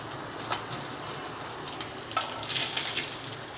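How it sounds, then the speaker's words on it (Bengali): Tilapia fish fry in hot oil, giving a steady close sizzle with small crackles and spatters popping through, and no one talking. "আরেক পাশে আমি মাছটা ভেজে নিচ্ছি"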